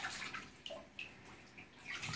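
Warm water runs and splashes softly in a bath for a salvadorii parrot, a faint trickling with small drips and gurgles, heard close and quiet.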